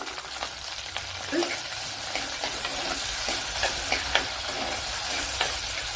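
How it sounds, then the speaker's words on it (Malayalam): Garlic, green chili and a small piece of ginger sizzling in a pan, a steady close frying hiss with occasional stirring scrapes and spatters, no voices. "ഒരു 7 അല്ലി വെളുത്തുള്ളി, 1 പച്ചമുളക്, അതുപോലെ ചെറിയൊരു പീസ് ഇഞ്ചി ഇത്രയും ചേർത്ത് കൊടുക്കുക."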